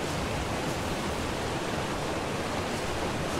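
Steady broadband rush of a waterfall in the game ARK: Survival Evolved, a constant, full roar with no breaks and no voices over it.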